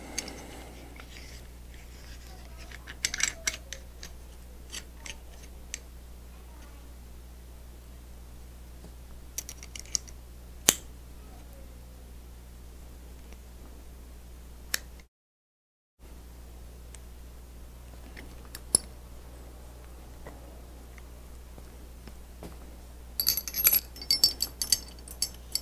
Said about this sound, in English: we're going to go ahead and put our bolt carrier back together.